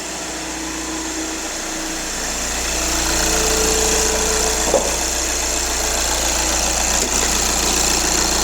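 A Skoda Superb 2.0 TDI 4×4 diesel engine idles just after a cold start, a steady close-up drone with a faint knocking texture that swells slightly partway through, with no talking.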